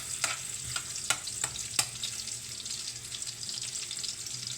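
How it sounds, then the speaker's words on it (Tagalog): Garlic frying in a pan while cooking chicken feet, a quiet continuous sizzle with a few sharp clicks and taps of a utensil near the start, faint and close. "Papula-pulayin natin yung bawang para mabango."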